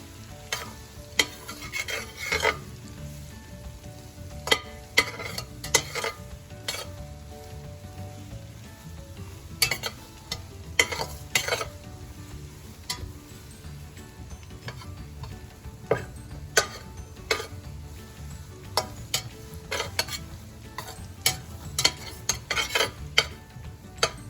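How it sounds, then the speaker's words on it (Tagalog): Butter melts and sizzles in a pan while a spoon stirs it before blue crabs are added, with a continuous soft frying hiss and frequent scraping clicks, close and without talk. "Hintayin lang natin pag-isaw lahat ng butter."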